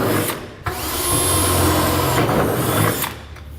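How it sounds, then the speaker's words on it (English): A power drill runs continuously, boring a pilot hole through existing holes in a steel 5th wheel hitch frame on a 2006 Dodge Ram pickup, a loud whining grind that starts after a brief pause and cuts off near the end. "Make a pilot hole first."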